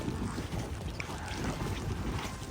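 Steady, blustery wind rumbling and buffeting against the microphone in snowy Canadian weather, continuous and fairly loud with no voices.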